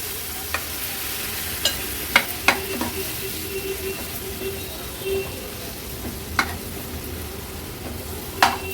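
Halwa fish being stirred into a turmeric masala paste in hot oil in a pan: a soft continuous sizzle broken by scattered, sharp spoon scrapes and clinks, with no talking.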